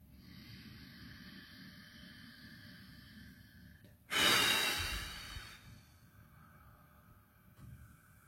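One slow, deep breath during a calm emotion-regulation exercise, a soft, breathy exhale swelling then fading over about a second, close and quiet against a faint hum with otherwise near silence.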